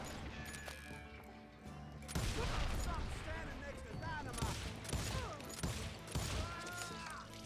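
Dual pistols fire in the video game Call of Juarez Gunslinger: a dense, continuous clatter of game gunfire and impacts over loud background game sound, with rapid shots and crashes layered throughout.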